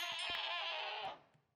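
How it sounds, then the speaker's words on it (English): A goat bleats in the Minecraft modpack StoneBlock 4, one clear, wavering bleat lasting about a second before fading, followed by faint game clicks. "Oh, it's the quantum goat again."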